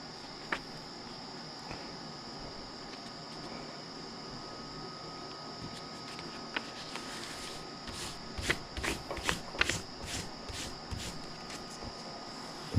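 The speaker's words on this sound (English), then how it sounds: "we need to do before we get too far ahead of ourselves is fold all these pages" Paper pages for a homemade duct tape journal are folded by hand. Under a steady background hum, a cluster of crisp creasing and crinkling sounds comes late, close and fairly quiet.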